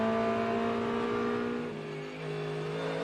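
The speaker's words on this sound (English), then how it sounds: "They go side by side once again, with the Corvette once again kicking up dirt on the exit, and Vervish hanging on to that 8th position" GT race cars, a Corvette and a Mustang, power along side by side at Road America in an IMSA GTD PRO race, with loud sustained engine roar whose pitch dips briefly and then climbs again.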